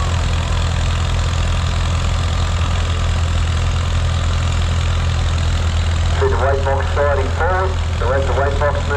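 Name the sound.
vintage tractor with Perkins diesel engine pulling sled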